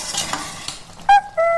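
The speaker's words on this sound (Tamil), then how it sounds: "பாருங்க இப்ப நல்லா கொதிக்குது பாருங்க" Sweet milk kozhukattai dumplings simmer in a pan: a brief bubbling, sizzle-like boil with stirring, followed by a clink and a short ringing tone.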